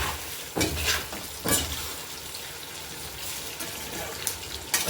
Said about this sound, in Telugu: ఇలా నెమ్మదిగా వేయించుకుంటాం మీడియం ఫ్లేమ్లోనే.